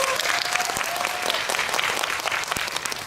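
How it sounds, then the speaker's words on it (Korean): Sustained applause from a cinema audience at a film talk event in Seoul's COEX Megabox, steady clapping throughout with a faint whistle-like tone early on. "네, 박수 부탁드립니다."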